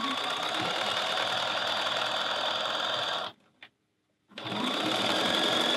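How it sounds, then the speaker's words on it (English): A sewing machine stitches a seam on a mesh bag, running steadily and loudly up close, stopping briefly for about a second, then resuming at the same steady pace. "And now I'm going to sew this seam."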